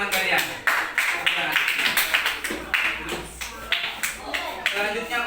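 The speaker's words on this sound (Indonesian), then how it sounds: "Tepuk tangan dulu untuk teman kalian." Classroom applause from students rewarding a classmate's news-reading practice, a run of light, uneven hand claps and taps with a teacher's voice talking over them.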